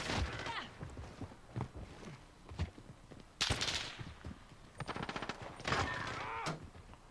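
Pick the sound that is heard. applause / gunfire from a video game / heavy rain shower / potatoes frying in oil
gunfire from a video game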